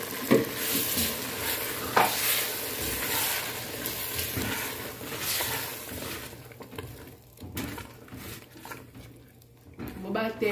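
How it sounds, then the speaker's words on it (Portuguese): Blended cassava being stirred into a pot of cassava and bacon broth, a steady scraping and sloshing stir with soft sizzling underneath, louder and busier in the first half and thinning out later. "Agora eu vou colocar o aipim batido"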